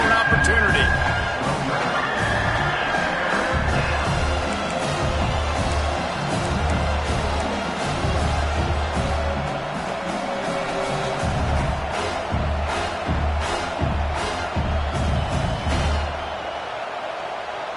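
Football stadium crowd roaring loudly and steadily in support of the defense as the opponent sits in the red zone, a dense sustained wall of cheering and chatter with no clear breaks.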